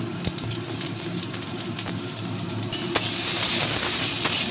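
Chili and panch phoron spices fry in a little reused papad-frying oil for a potato curry, a steady close sizzle with crackling pops, growing brighter and louder in the second half.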